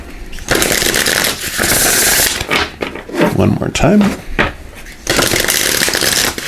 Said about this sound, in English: We'll give these a shuffle